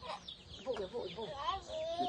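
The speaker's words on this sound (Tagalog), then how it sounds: "Ito itik." Poultry calls, consistent with ducks, chatter and squawk close by in a rural yard, with voices talking over and between the bird sounds.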